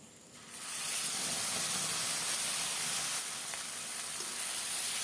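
A paste of tomato, green chili, garlic and ginger hits hot fried onions in a pan, bursting into a loud, steady sizzle and hiss that holds close throughout.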